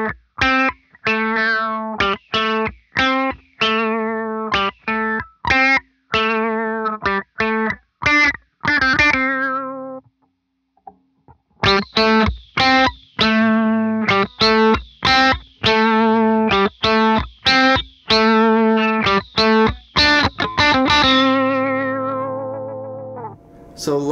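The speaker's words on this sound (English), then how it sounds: "I'm going to show you that with a guitar that has a volume boost on it, how much the sound drastically changes." An electric guitar with a volume boost plays through an EHX Nano Doctor Q envelope filter pedal. Bright, distorted, quacky plucked notes come in quick rhythmic runs, pause briefly about halfway through, then resume loud and steady.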